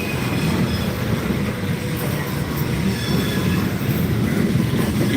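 A Norfolk Southern freight train rolls past close by, hauled by two AC44C6M locomotives with hopper cars, in a loud, steady rumble of wheels and rail noise with faint squeals.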